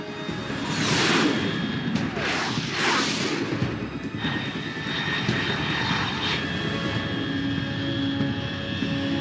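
A fast aircraft flies at high altitude in the Metal Gear Solid 3 video game, a loud sustained jet roar with rising whooshing sweeps that hold steady throughout.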